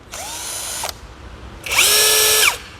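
A cordless drill, used on hardwood, whirs in two short bursts, the second louder and higher-pitched, each spinning up and winding down with a pause between.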